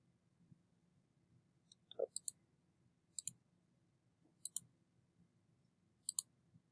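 Computer mouse clicks on a desktop in a quiet room, sharp and close, arriving in small clusters of single and double clicks spaced a second or so apart over a faint low hum.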